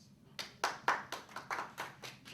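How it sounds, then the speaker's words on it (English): Eight sharp hand claps ring out in a slightly uneven rhythm, close and fairly faint, from a small audience at a talk, with no speech over them. "Give me a clap if you want to"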